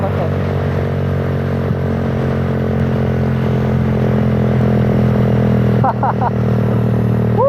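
Raider 150 motorcycle engine, modified and loaded with a striker pin, running steadily and close by with a dense low drone and brief rising rev sweeps near the end; engine carries continuously throughout.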